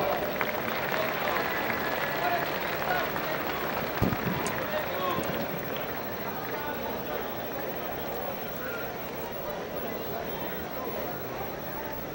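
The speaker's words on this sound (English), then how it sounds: "Ladies and gentlemen, let's give the committee another round of applause." Steady, dense applause from the audience at a Woodland Hills High School event, honouring the committee. It sounds like a broad wash of clapping that stays even and sustained for about twelve seconds, with no clear talk over it.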